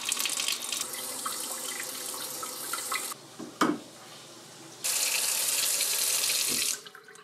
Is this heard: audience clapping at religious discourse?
no